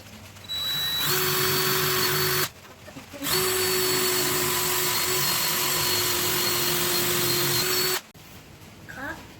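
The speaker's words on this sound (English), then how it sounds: "I'm going to come down just a couple inches down from the top of the stick and drill the hole" A power drill whines steadily at close range in two long bursts, drilling a hole in a wooden walking stick, stopping briefly between them, with faint handling noise in the gaps.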